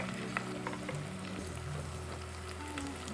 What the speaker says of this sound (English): I'm gonna stir everything together